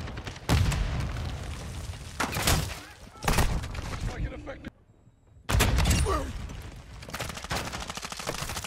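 Shotguns fire in Call of Duty MW2 as heavy, booming blasts, several close shots spread across the moment, broken by a brief near-silent pause, with voices talking.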